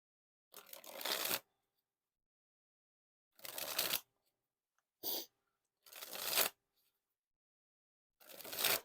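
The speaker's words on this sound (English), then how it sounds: "And now time for the dribble." Yellow vintage-feel Jerry's Nugget playing cards, thick stock, dribbled from hand to hand in five separate close riffling bursts, each a rising flutter lasting about a second, with short silences between and no talking.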